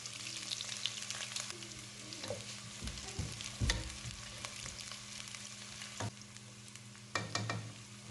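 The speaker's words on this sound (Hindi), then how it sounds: "प्याज़ों को ऐड करने के बाद इन्हें हमने हल्का सा लाइट ब्राउन करना है।" Chopped onions frying in oil for a Punjabi-style mutton curry, a steady close sizzle with crackles and occasional stirring scrapes, no voices.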